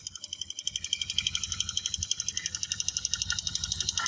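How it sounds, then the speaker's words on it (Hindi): A running 125cc motorbike engine gives off a fast, regular mechanical ticking, several clicks per second, close and fairly clear over a low engine rumble for the whole stretch. "आपको टिक टिक की आवाज़ आ रही है"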